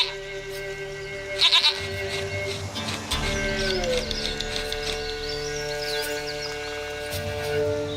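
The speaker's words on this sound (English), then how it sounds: "Goat of mine, dearest, sweetest goat." A goat in The Witcher 3 bleats with brief nasal cries over a sustained game soundscape.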